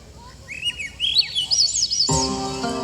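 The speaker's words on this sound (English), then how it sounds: "That bird is a Swainson's thrush. Beautiful song, don't you think?" A Swainson's thrush sings its fluting, upward-spiralling phrases near the Ballard Locks, clear and fairly close. A low voice begins partway through and continues under the final notes.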